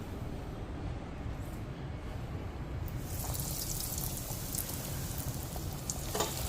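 Rolls frying in hot coconut oil in a pan on the stove, a continuous dense crackling sizzle that brightens and grows busier partway through, close and steady, with no talk.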